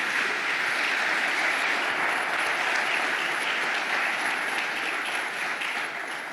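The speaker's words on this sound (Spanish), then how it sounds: "Un aplauso a Cristo." A church congregation applauds for Christ during a service, a loud, continuous roar of many hands clapping that stays even for over six seconds and thins a little near the end.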